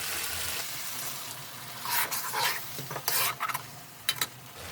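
Eggs going into a pan for a Bengali egg and pea curry, with a soft continuous frying hiss and several sharp scraping, stirring bursts against the pan, close and moderately loud.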